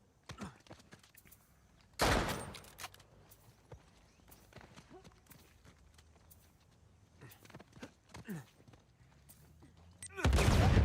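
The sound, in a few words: gunfire in a video game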